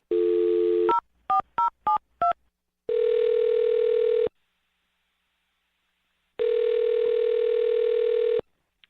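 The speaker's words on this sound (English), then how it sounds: "I'm going to dial his phone number right now" Telephone dialing tones in a quick series of beeps, followed by two long, loud ringback tones separated by silence, with no voices.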